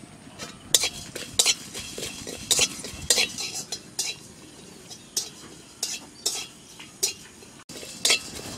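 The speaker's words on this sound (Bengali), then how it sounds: "প্রথম মশলাটা ভেজে নেব জিরা ধনে" Cumin and coriander seeds with a bay leaf toasting in a pan for a Bengali vegetable dish, with sharp metallic clinks of a spoon scraping and stirring at irregular intervals over a faint background hiss, heard close up.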